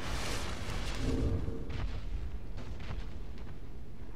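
A fire orb pyromancy bursts in Dark Souls II, a muffled booming blast with rumbling low end that swells early and then trails off into a lingering, noisy roar.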